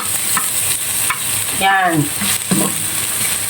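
Onions fry in a pan for ginataang crabs, hissing in a loud, steady sizzle as a utensil scrapes and stirs them. A voice speaks briefly over the cooking.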